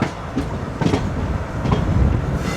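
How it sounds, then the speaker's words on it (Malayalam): Shoranur–Nilambur passenger train pulling out of Narol junction station, with steady rumbling and rhythmic clickety-clack of wheels over rail joints, fairly loud and close, several sharper clatters standing out, no voices. "നിലമ്പൂർ പാസഞ്ചറും നമ്മൾ നാറോൽ സ്റ്റേഷനിൽ നിന്ന് പുറത്തോട്ട് പോവുകയാണ്"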